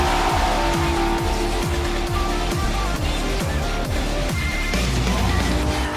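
A race car's engine revs in rising sweeps at Daytona as its tires squeal through an early drifting slide around a corner, loud and close and continuous throughout.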